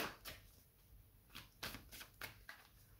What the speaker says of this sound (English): Why do I need to shuffle this long though?